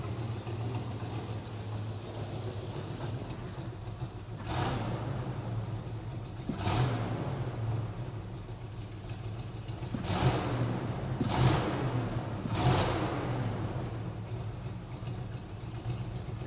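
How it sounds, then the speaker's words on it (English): An El Camino engine idles with a steady low rumble, then is blipped several times in quick throttle bursts, each rev rising sharply and dropping straight back to idle; no voices. "It just goes back down to an idle."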